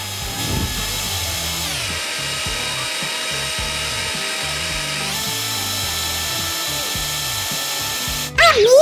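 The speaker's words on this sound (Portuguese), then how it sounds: "Acho que está na hora da batedeira." Electric hand mixer beating no-bake rainbow cheesecake filling, a loud continuous motor whine with rhythmic beater rattling against the bowl, shifting pitch midway and ending in a brief clatter.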